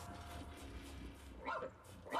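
A dog barks twice in the ReCore video game, short yelps rising above a steady low in-game ambience, one near the middle and another at the very end.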